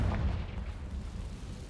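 Confringo fire spell blast in the Hogwarts Legacy video game, a single deep boom at the start that trails off into a low rumbling decay.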